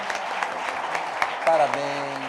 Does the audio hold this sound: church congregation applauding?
yes